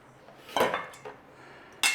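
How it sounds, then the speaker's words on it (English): An air fryer basket is set into place in a kitchen, giving two sharp metallic clanks with a softer knock between them, close and brief. "Air fryer basket in there."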